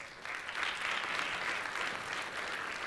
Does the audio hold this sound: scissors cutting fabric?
no